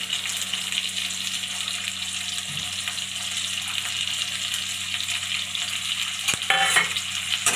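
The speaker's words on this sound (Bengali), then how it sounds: "ঘি আর তেলটা আমার গরম হয়ে গেছে। এবার আমি পেঁয়াজগুলো দিয়ে দেবো।" Onions frying in hot ghee and oil for a Bengali curry, a steady loud close sizzle and crackle that continues evenly with a brief stirring clatter near the end.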